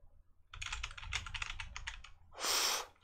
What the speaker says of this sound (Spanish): Suena bastante el teclado.